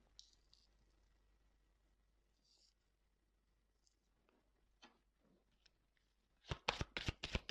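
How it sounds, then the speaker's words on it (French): Tarot cards being drawn and shuffled, soft faint handling rustles and taps, then a sudden loud, close run of rapid riffle-shuffle bursts near the end. "Je vais tirer quelques cartes complémentaires."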